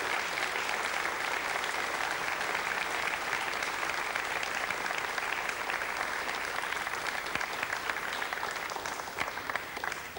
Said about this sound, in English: you hear the applause from the invited guests here as Helios 1B successfully separated Ariane